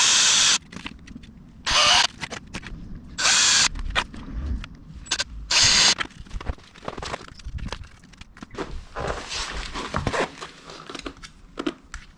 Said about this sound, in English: So the next thing is drill a 4mm hole through.